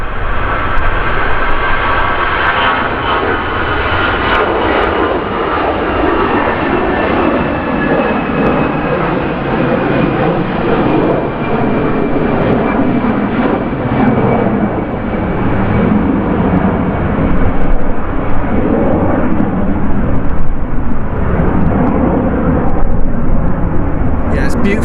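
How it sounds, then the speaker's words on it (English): Boeing 757 jet engines roar steadily and loudly throughout at a Manchester Airport planespotting spot, a broad sustained rumble with a faint whining tone gliding slowly downward. "Beautiful, that 757 at the start."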